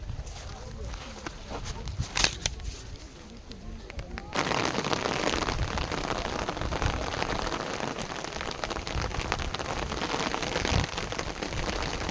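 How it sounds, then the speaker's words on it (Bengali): Rain falls in the Sundarbans mangrove forest, light and patchy at first, then swelling into a dense, steady hiss of drops on leaves and ground, with voices talking faintly underneath. "এইমাত্র বৃষ্টি পড়তে লাগলো এবং বৃষ্টির মধ্যে আমরা ভিডিও করছি"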